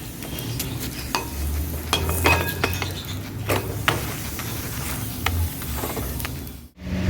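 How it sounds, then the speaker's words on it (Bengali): Two parathas fry together in oil in a pan, giving a steady sizzle broken by scraping and clinking of a utensil against the pan, with no talking. "আমি দুটো পরোটা একসাথে ভেজে নিচ্ছি।"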